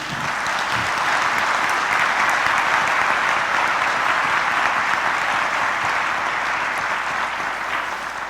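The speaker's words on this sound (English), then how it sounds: "I think this deserves another round of applause" Sustained audience applause in a church setting at St. Peter's, following a presentation by a priest; dense steady clapping fills the whole stretch at a loud, even level with no voices over it.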